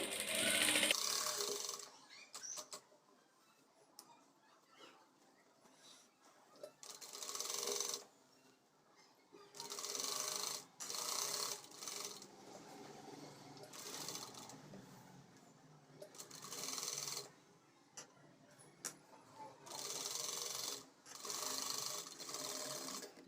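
An electric sewing machine stitches a blouse in short separate runs, a rapid mechanical whirr starting and stopping several times with quiet pauses between, close and moderately loud.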